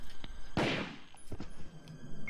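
Gunfire in a zombie shooter video game, one loud sharp shot followed by a few fainter, scattered pops against a quiet background.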